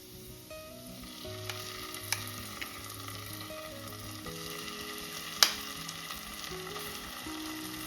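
Momo filling mixture being sautéed in a pan, a steady close sizzle with occasional sharp clicks of a utensil against the pan, one louder clatter near the end.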